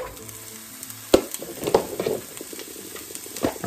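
Peppers and onions for a Philly cheesesteak frying in a hot skillet, a steady sizzle punctuated by several sharp clatters and scrapes as the vegetables are tossed.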